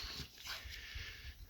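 A dog whimpering softly, faint high whines over a low background rumble, close but quiet and without talk.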